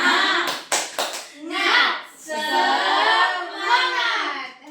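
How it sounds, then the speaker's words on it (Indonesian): Schoolchildren in a fifth-grade classroom doing a rhythmic cheer-clapping routine, a few sharp claps in quick succession at the start, followed by the children chanting loudly together. "Tepuk semangat."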